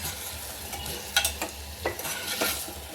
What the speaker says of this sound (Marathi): जरा भाजून घेणार आता मी फुल गॅस करून थोडा वेळ.